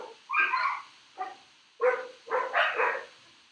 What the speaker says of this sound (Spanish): Mis perritas hacen un ritual diario de aullar.